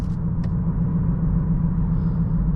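A 2020 Honda Accord EX-L 2.0T engine with a steady low rumble heard from inside the cabin while taking a very sharp corner, constant and fairly loud with no talk.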